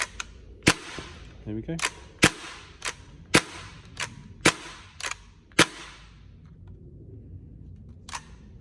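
Tokyo Marui MP7A1 gas blowback airsoft gun firing about ten sharp, loud single shots with uneven gaps, a short metallic rattle of cycling mechanism in between, and a brief spoken remark partway through.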